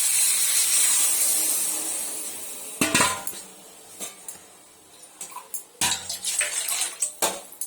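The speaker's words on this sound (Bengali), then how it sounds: "এই যে এখন জল দিয়ে দেবো" Water poured into a pan of cauliflower and potato curry with egg omelette pieces, a steady splashing pour at first, then clinks of utensils and stirring knocks near the end.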